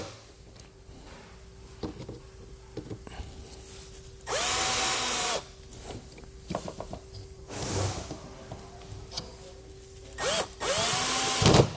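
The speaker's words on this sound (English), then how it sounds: "I'm going to come back here with the drill." A power drill whirs in two longer bursts and a couple of short ones, driving screws into an RV screen door push bar, with clicks and handling noises in the gaps between.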